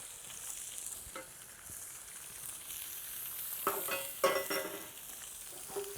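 Thick pieces frying in a pan in a home cooking setting, a steady low sizzle with occasional louder crackles and spatters toward the end, fairly close and with no talk over it.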